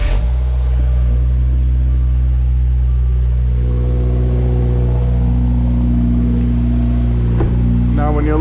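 A 2022-or-newer Subaru WRX engine fitted with a Mishimoto oil cooler idles close by, a loud, steady, deep rumble that holds evenly throughout, with a brief rattle near the end.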